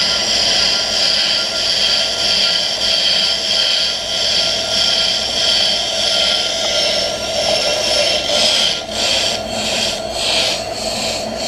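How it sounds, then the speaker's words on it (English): A brake lathe cuts the end of a hub-type brake rotor with a loud, steady metallic grinding hiss and a sustained tonal whine. The sound pulses slightly toward the end and continues without a break. "That noise, it's cutting the end of the rotor."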